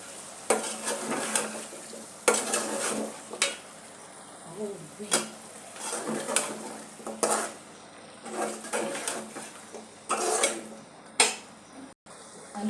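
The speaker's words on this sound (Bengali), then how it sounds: "আলু দিয়ে নাড়াচাড়া দিয়ে এখন ঢাকনা দিয়ে দিচ্ছি" Potatoes stirred into a pot of pigeon meat curry, with repeated scraping and clattering bursts of a utensil against the pot, close and moderately loud, separated by short pauses.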